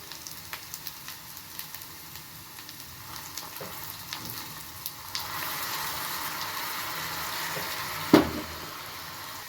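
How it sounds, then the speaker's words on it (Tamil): Onion with ginger garlic paste sautés in a pan, giving a soft sizzle that swells partway through, with light scraping and one sharp clatter near the end, close and without speech. "இது ஆனியன், கொஞ்சம் இஞ்சி பூண்டு பேஸ்ட் போட்டு வதக்கிக்கணுங்க"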